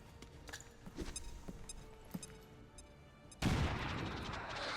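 A frag grenade in the turn-based strategy game XCOM 2 Long War of the Chosen, with a few soft clicks and taps before a sudden loud blast that rolls into a sustained rumbling roar.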